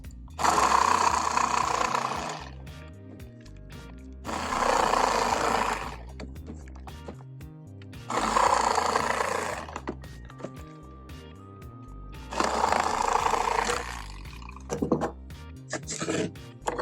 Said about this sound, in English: I'm using a lithium Black & Decker saw, not a very expensive saw